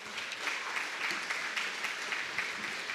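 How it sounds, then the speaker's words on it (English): Steady applause from an audience at a chamber of commerce awards event, a continuous wash of many hands clapping at moderate distance, fairly soft and even for three seconds. "Let's give Amanda a round of applause"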